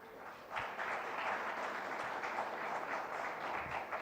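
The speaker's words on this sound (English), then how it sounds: "So a big round of applause for Faculty of Computer Technology and Professor Rao sir and Suceendran sir." Audience applause at a TCS event: steady, fairly faint clapping from a crowd, continuous for the whole few seconds with no voices.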